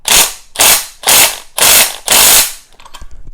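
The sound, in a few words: impact wrench tightening strut mount studs on a Ford Explorer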